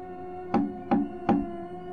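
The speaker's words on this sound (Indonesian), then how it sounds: "tiba-tiba dia mendengar ada suara ketukan pintu di depan rumahnya" Three knocks on the front door of a house, evenly spaced and moderately loud against a steady low hum, with no one speaking.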